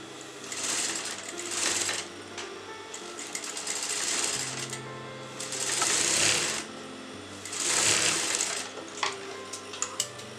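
A sewing machine stitches golden fabric for a kurta and salwar, running in several rapid whirring bursts separated by brief pauses, close up and without talk.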